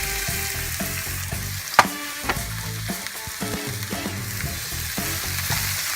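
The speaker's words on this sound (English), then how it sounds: "And you just continuously stir until it gets to that point that you like it, nice and soft." Green and yellow zucchini frying in a pan, a constant loud sizzle under continuous close stirring, with repeated scrapes and one sharp knock of the utensil against the pan.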